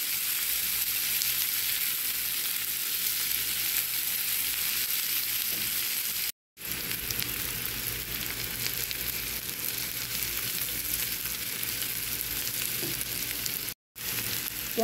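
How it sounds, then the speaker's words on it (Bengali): Onions fry in a pan as they turn light brown, giving a steady dense sizzle that runs almost without a break and is cut off twice by very short dropouts. "ওই ফ্রাই প্যানে আমি পেঁয়াজগুলো দিয়ে দেব"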